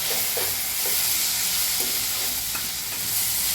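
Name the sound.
chopped tomato added to frying onions for dal tadka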